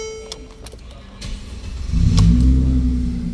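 A car engine cranks and catches, then settles into a loud, steady idle with a low rumble that continues to the end.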